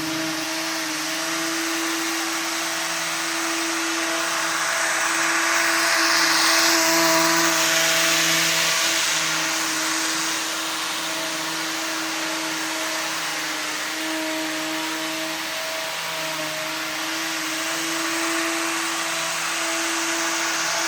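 The small motor of a Lionel Benz aero model train car, set up as a pusher on a 12-volt controller, runs with a steady high whir and a constant underlying hum. It is unbroken, moderately loud and close.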